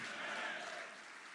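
Dense crowd noise swells and then eases, consistent with an audience clapping and cheering together in a large space.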